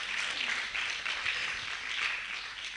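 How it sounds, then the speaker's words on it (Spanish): Applause from a church congregation during a worship service, a steady wash of many hands clapping at once, sustained and even throughout with no voices over it. "Denle un fuerte aplauso al Señor."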